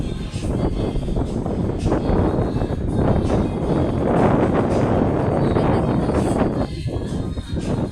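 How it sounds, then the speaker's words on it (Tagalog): Strong wind on a mountaintop rooftop roars steadily across an open microphone, a constant buffeting rumble with gusts rising and falling and no other sounds standing out. "Ang presko, mahangin. Palibasa nasa tuktok ng bundok."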